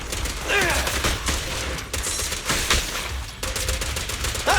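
A burst of gunfire in a game episode, loud and continuous, with a shooter's dense crackle running almost throughout and a brief shouted voice mixed in.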